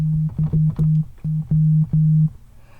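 A steady low sine tone from a Korg Modwave synthesizer pulses on and off in short bursts of varying length, clean and fairly loud, with faint clicks between notes.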